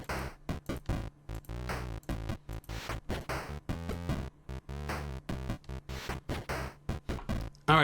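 A harsh, buzzy chiptune square-wave bass line made in BeepBox plays a bouncy, repeating pattern of short staccato notes, loud and on its own.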